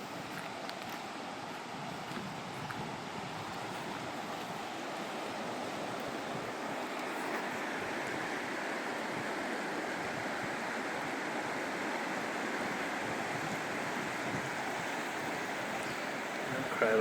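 A river flows past a riverside campsite in Jasper National Park, Alberta, a steady broad rush of moving water with a faint breeze, continuous and unchanging, no voices.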